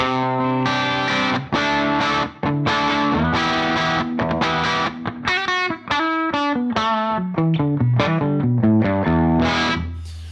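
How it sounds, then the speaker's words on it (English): Distorted electric guitar riff with a warm, saturated crunch from tape drive saturation in Native Instruments Guitar Rig 7, playing chords then a descending single-note line, loud and alone. "it's just a little bit of tape drive, but you can push it and make it much more tape drivey"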